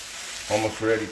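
Broadband hiss of kimchi fried rice sizzling and crisping in a hot frying pan, steady and close, with two short bursts of talking over it.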